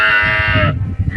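A voice imitates a cow in one short, loud, drawn-out bleating call that breaks off abruptly, with no other sounds.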